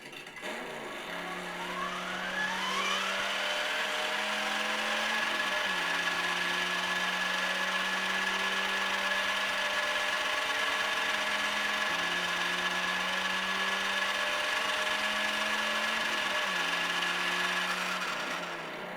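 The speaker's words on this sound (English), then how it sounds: "hopefully you can hear the engine sound over the sound of the gearbox for the wheels" Mattel Ultimate Batmobile Justice League RC toy car running its simulated engine sound over the whirring wheel gearbox, a steady close mechanical drone with periodic pitch shifts repeating every few seconds for nearly twenty seconds.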